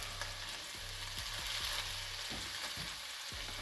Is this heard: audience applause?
no